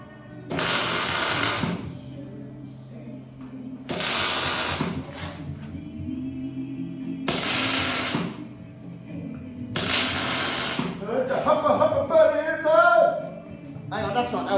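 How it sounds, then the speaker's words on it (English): A MIG welding torch tacks a steel sliding gate, giving four separate bursts of harsh crackling buzz, each lasting about a second, with quieter gaps and a voice speaking between the later bursts. "But this is just tacking. That's a welding torch. Wire comes out,"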